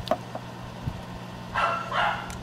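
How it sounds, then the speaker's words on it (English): A dog barks a couple of short bursts in the background of a home kitchen where a melting pot is being stirred, fairly faint and a little distant, with no talking. "Dog's barking."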